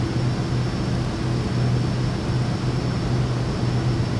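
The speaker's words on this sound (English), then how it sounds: "You can hear the air coming on." Steady cabin air-conditioning airflow inside a plane in Microsoft Flight Simulator 2024, a constant broadband hiss over a low engine hum and a faint high whine, even and unbroken throughout.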